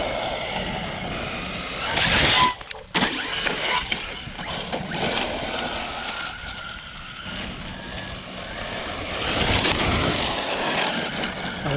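An ARRMA Mojave 4S RC desert truck at full throttle, its motor whining in a loud, steady broadband roar with a sharp burst and dropout near the start, swelling again toward the end; no one speaks.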